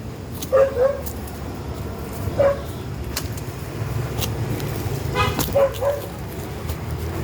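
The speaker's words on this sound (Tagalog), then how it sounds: "Ayun, kumakahol yung isa dun." A dog barks in short, separate bursts at a farm, several yips spaced apart at moderate distance over a faint outdoor background with light wind.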